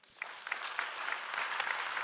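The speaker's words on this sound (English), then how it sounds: "Let's give him a round of applause one more time." An audience applauds after a speech at a university president's speaker series, a moderately faint wash of many hands clapping that starts abruptly and holds steady to the end.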